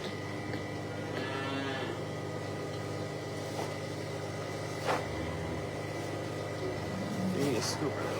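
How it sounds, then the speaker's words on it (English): Dairy cows are fed grain in a farm barn, with occasional low moos and shuffling over a constant mechanical hum, and a person's voice at times. "You guys can watch the cows eat as I grain them."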